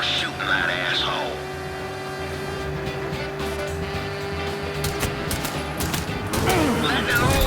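Gunfire in the video game Mafia 3, with rapid bursts of automatic shots cracking in clusters over engine rumble and a busy game soundscape, while voices talk at moments.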